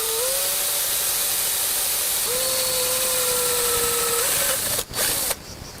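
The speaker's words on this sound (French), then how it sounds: "Le premier perçage, c'est le perçage de l'aluminium avec une mèche à métaux de 5 mm de diamètre." Drilling through an aluminium profile with a 5 mm metal bit: a loud, close, steady whine with a humming tone that climbs and holds, ending in a brief break and a burst of noise.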